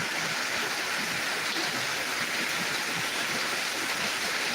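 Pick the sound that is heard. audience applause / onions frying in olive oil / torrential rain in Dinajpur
torrential rain in Dinajpur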